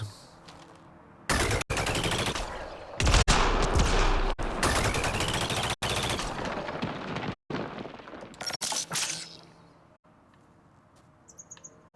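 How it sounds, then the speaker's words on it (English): A Sticky Rose pistol firing sticky grenades in the video game Mass Effect Andromeda, heard as repeated rapid bursts of loud automatic fire broken by brief gaps, ending in faint electronic chirps. "this one shoots sticky grenades"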